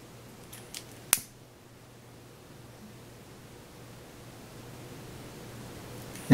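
Paracord snipped by the built-in blade of a Spool Tool: one sharp, close cut near the start, then a quiet hiss of background with a faint knock at the end.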